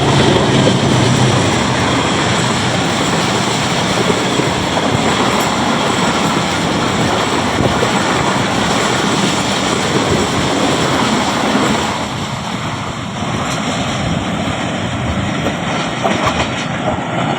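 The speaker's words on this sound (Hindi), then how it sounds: "85 की स्पीड से थ्रू पास करेगी गुजरांवाला कैंट रेलवे स्टेशन को" A train passes at speed through Gujranwala Cantt railway station, a loud sustained roar and rumble of rolling wheels that holds for over ten seconds and then eases slightly, with no voices.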